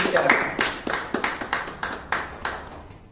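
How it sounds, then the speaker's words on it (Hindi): Steady rhythmic hand clapping at a Club Netsurf Dubai gathering, with sharp claps spaced about every third of a second for three seconds, fairly close and clear over a faint murmur of background voices. "मैं आप सभी के लिए जोरदार तालियां बजाना चाहता हूं"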